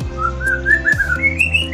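A white-rumped shama (murai batu) sings a clear, rising whistled phrase of sliding notes over a steady low hum, moderately loud and continuous across the short stretch.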